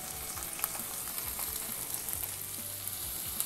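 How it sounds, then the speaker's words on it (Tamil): Tomatoes sizzle steadily in a hot pan, a soft continuous frying crackle with occasional light stirring sounds. "இப்போ தக்காளியை நல்லா வதக்கிக்கலாம். தக்காளியை நல்லா வேகிற வரைக்கும் அதை நம்ம வதக்கிக்கணும்."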